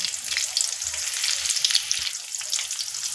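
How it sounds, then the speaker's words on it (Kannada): Chopped onion, curry leaves, cumin and mustard seeds crackle and sizzle in hot oil in a pan, a loud, close, continuous frying hiss with sharp pops throughout and no talking. "ಚಟಾಪಟ ಅನ್ಬೇಕು ಈ ಥರ."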